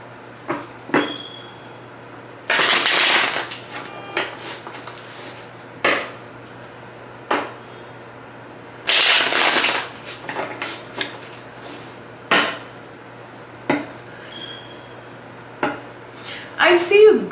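Tarot cards are shuffled in several bursts, with riffling rushes and scattered taps and clicks between them, close to the microphone.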